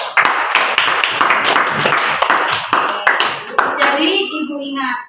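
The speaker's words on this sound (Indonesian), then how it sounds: "Tepuk tangan dulu." A classroom of children claps their hands together in a dense, steady burst of rapid overlapping claps that fades out near the end, with a teacher's voice speaking over it.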